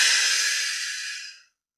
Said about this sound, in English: Two more big, deep breaths.